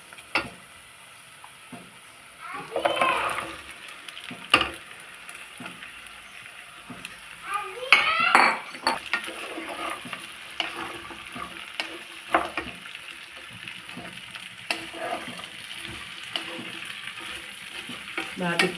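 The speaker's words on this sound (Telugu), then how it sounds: "ఇప్పుడు జీడిపప్పు వేసుకుందాం." Raw cashew nuts frying in oil in a pan, with a steady sizzle broken by scraping stir strokes and clinks. A person talks over the cooking now and then.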